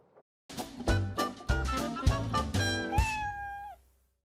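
A short TV show jingle with a cat meowing: repeated meow-like tonal notes over a musical backing, ending in a long sustained cry, loud and close.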